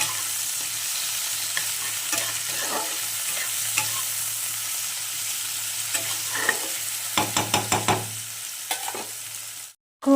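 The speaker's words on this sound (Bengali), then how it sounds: "দেখো কড়াইয়ে পেঁয়াজটা আর টমেটোটা দিয়ে দিয়েছি। ভালো করে ভাজা ভাজা করবো টমেটোটা।" Onion and tomato fry in a wok for ghugni, a continuous close sizzle with scraping stirs, then a quick run of rhythmic spatula taps before the sound cuts off abruptly; no one talks.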